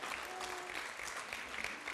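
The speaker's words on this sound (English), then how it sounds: "let's give her a round of applause for that" An audience at a student panel on online education claps for a newly graduated PhD in instructional technology: dense, steady applause from many hands for about two seconds, with no speech over it.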